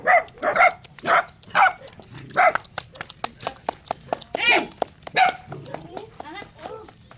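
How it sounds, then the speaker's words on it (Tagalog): A dog barks repeatedly in short bursts close by, mixed in with people talking over and between the barks. "Uy, ang aso."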